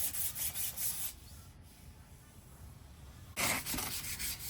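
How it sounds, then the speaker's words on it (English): Green foam being sanded by hand, two bursts of brisk rhythmic rubbing strokes at the start and end with a quiet pause between, close and moderately soft. "This stuff is really hard to sand."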